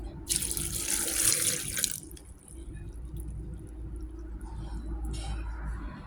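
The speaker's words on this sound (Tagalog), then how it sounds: "Lagyan natin ng konting tubig." Water runs from a tap in a steady broadband rush for under two seconds, then stops, leaving a low background hum with faint clatter, in a kitchen while making soup.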